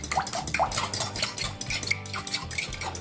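Sun-dried tomato oil and walnut oil are stirred together in a bowl, a steady run of close metal-on-bowl clinks and scrapes from the utensil, with no talking.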